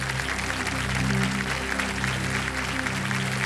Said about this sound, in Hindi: एक बार फिर तालियों के साथ आपका हम स्वागत करते हैं